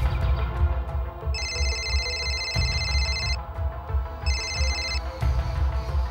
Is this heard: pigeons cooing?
no